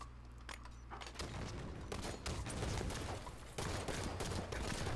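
Dense gunfire in a Halo 5 free-for-all match fills the scene as a steady, loud barrage of overlapping shots and impacts, with no talking.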